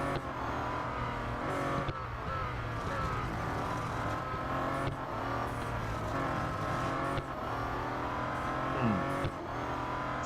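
Bentley Continental GT Speed racing in the Real Racing 3 game, a steady synthetic engine roar with periodic gear-shift dips and short passing whooshes, played alone without talk.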